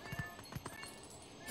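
Horse hooves clip-clop in The Legend of Zelda: Twilight Princess HD, a few soft, quick hoof beats over quiet in-game ambience, with no talking.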